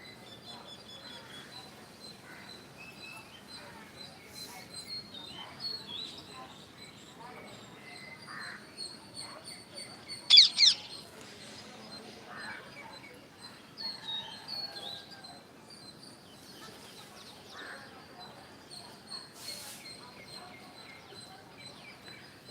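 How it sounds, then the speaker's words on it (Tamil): Parrots and sparrows chirp and call intermittently outdoors at sunrise, with a few sharper, louder calls standing out over a soft background hum. "கிளி குருவி கிளி பாருங்கள் என்ன அழகாக சத்தம் போட்டுட்டு போகுது"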